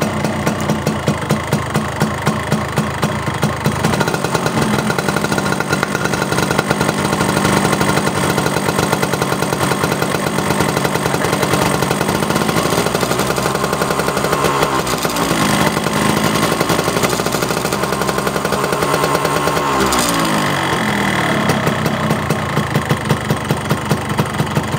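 A Yamaha RX King motorcycle engine runs steadily at idle, a close, loud, continuous buzzing drone with a slight dip and recovery partway through, and no voices over it.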